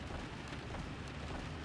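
Steady rain pours down in the video game Blackout, a dense, even hiss of falling water that holds without a break, with no voices over it.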